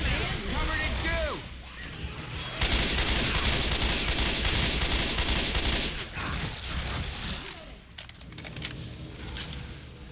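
Frag-round gunfire in the co-op shooter Left 4 Dead 2: dense, rapid bursts of shots and explosive cracks that run almost continuously, loud and close, with players talking over the din.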